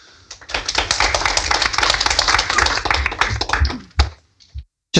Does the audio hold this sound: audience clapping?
yes